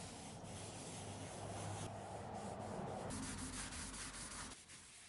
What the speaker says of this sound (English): Finish hand sanding, nothing breaking off so far.